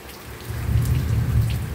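Thunder rumbles low and steady through an outdoor rainstorm at night, swelling after a quiet start and holding loud over the constant patter of falling rain, with no voices.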